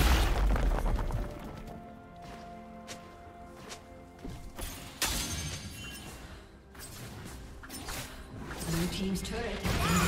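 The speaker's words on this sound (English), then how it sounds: "Blue team's turret has been destroyed." A turret destroyed in League of Legends, a loud crashing shatter with booming impacts and debris amid busy game effects, while a voice speaks over the action.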